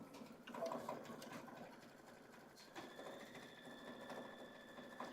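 A Kimberbell embroidery sewing machine stitches background quilting with a steady, moderately loud mechanical whir. The rapid needle rhythm runs continuously throughout.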